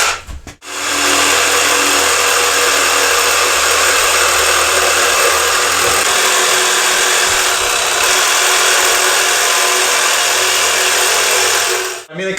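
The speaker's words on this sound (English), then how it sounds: "When I'm cutting through the wood, you don't quite feel as much." Craftsman cordless saw cutting through wood, a loud, sustained high-pitched whine that spins up sharply, holds steady for about eleven seconds, then cuts off abruptly.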